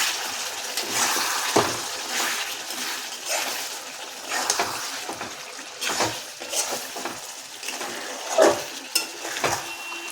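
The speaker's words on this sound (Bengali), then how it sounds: "লবণ দিয়ে দিয়েছি, একটু নেড়ে নেব।" Salted chicken giblet and liver curry is stirred in a pan, with a spoon giving slow, scraping strokes through the thick, wet mixture. A few louder clanks against the pan sound over a low, steady background of cooking.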